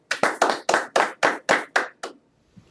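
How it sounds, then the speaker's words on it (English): Hand claps for the faculty and staff of Martha Ellen Stilwell School of the Arts at a virtual graduation celebration: eight evenly spaced, close claps, then a brief quiet. "Please join me in giving them a hearty round of applause."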